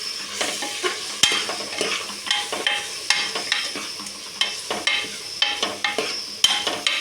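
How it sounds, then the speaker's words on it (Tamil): Spices being stirred into vegetable biryani in a pot, with a ladle scraping and knocking against the metal in a steady, repeated rhythm over a soft sizzle. "இது எல்லாத்தையும் போட்டு நல்லா மிக்ஸ் பண்ணிக்கலாம்."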